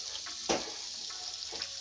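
Egg-soaked bread for French toast fries with a soft, steady sizzle in a pan, with a sharp clatter near the start and a few light scrapes, no voices.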